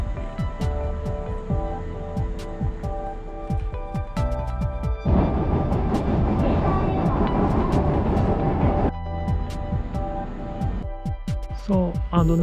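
A Japanese local train rumbles along the rails toward Yoro Station with sharp rhythmic clicks and a louder roaring stretch in the middle, heard from inside the carriage.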